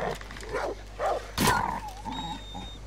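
A dog in Far Cry New Dawn gives short growls and a harsh bark-like roar in the middle, fairly close and loud, followed by quieter whining tones.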